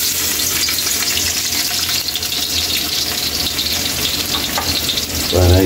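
Garlic drops into hot oil in a wok for lomi, a loud, dense, continuous crackling sizzle close up, swelling into a brief heavier burst at the end, with no talking.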